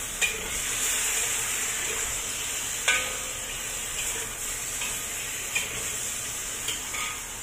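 Bean curd frying in a pan, a steady close sizzle with a few sharp scraping clinks of the spoon or spatula as it is stirred, no talk.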